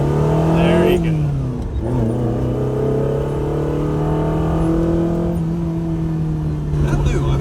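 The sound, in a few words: Ferrari Dino 308 GT4 accelerating at full throttle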